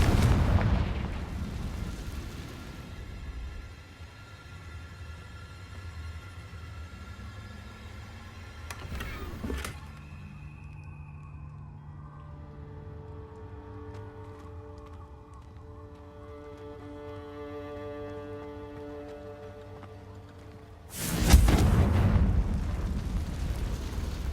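Booming blasts from the Confringo fire spell in the Hogwarts Legacy video game, with a broad burst near the start, a sharp crack around the middle, and another loud impact near the end over a steady game soundscape.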